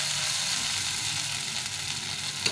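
Spice masala cooks down in oil for a fish curry, giving an even, continuous hiss of frying at moderate volume with a small knock at the very end.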